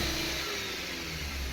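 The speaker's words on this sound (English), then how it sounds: "I'll give it some gas. And if one of the cylinders misfires here, you'll see it on the scan tool." A 2009 Dodge Caliber engine revs steadily up close, a loud continuous mid-pitched drone with a slightly rough, uneven edge from cylinder misfires.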